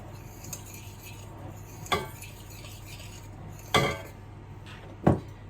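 Spoon stirring dried Italian herbs into chicken in a crockpot, with three sharp clinks against the dish at spaced intervals over a low steady background.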